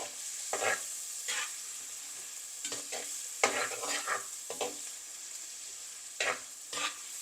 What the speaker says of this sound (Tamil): இஞ்சி பூண்டு பேஸ்ட் சேர்க்குறோம் பூண்டும் சேர்த்துருக்குறோம் அது நல்லா பச்சை வாசனை போக நல்லா வதங்கட்டும்